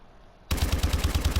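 Automatic fire from the Pytaek Hasty variant in Call of Duty Advanced Warfare, a loud, close burst of rapid evenly spaced shots at about ten per second, starting abruptly after a short quiet moment.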